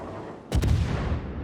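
Naval guns firing high-explosive shells in the World of Warships video game, a single heavy close boom from a Prinz Eugen cruiser salvo with a doubled report, then a rumbling tail.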